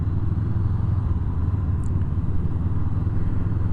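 A Honda CB500X motorcycle hums along on a test ride, its engine a low steady drone mixed with wind rush, even and unbroken for the few seconds.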